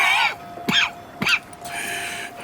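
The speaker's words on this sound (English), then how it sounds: "That's quite a cough." Arthur Morgan, Red Dead Redemption 2 character with tuberculosis, giving several harsh, rasping coughs close up: a longer hack, then two short sharp bursts and a final rough cough, with no talking.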